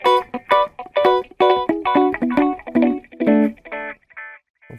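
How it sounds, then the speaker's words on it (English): Electric guitar phrases through a Line 6 POD Go delay ring out in short repeated bursts, tails echoing with delay and warbling modulation pitch sweeps, ending in fading repeats. "You get those frequency sweeps all into the echo."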